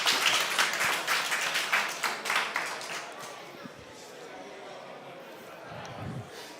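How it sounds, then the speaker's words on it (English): A conference audience at a panel on inclusive green finance gives a round of applause, a dense burst of many hands clapping that fades out over about three seconds, leaving quiet room tone afterward. "let's give them a round of applause"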